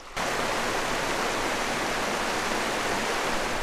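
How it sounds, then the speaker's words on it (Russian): Small mini waterfall on a mountain stream at the end of a hiking trail, a loud, steady rush of falling water that cuts in after a brief pause and roars on evenly throughout, with no voices. "Ну и можно сказать, что это тоже мини-водопадик."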